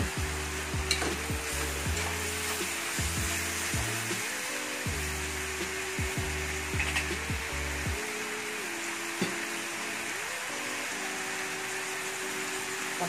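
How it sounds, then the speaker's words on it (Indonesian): Small chopped mushrooms stir-fry in a pan for tofu sapo, a continuous close sizzle with rhythmic scraping strokes of a spatula and a low hum underneath, no speech. "Kita masukkan ini jamur ya, tapi jamurnya sudah saya potong-potong kecil ya."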